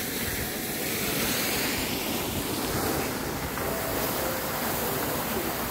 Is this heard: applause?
no